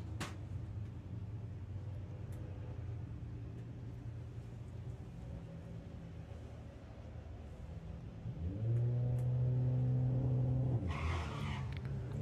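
VW Lupo and Passat drag racing cars at Santa Pod's VWDRC Bug Jam qualifying accelerate down the strip, a steady engine drone building to a louder, rising rev surge near the end.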